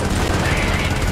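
Rapid automatic gunfire in the video game Helldivers, a dense, continuous rattle of shots at close range with no pauses, loud and sustained for about a second.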